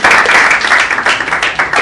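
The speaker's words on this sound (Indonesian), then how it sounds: "Jadi berikan tepuk tangan sekali lagi kepada Maulana." Loud audience applause for a presenter, close and dense clapping that pulses briefly before fading toward the end.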